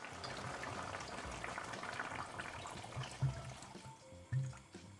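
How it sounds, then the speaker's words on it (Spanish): Water pours into a pan for rice broth in a kitchen, a steady, soft gushing stream with a couple of louder clunks near the end, no talk. "Y ahora abundante agua, que de aquí ha de salir luego suficiente caldo para hacer un arroz."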